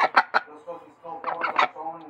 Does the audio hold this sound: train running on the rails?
no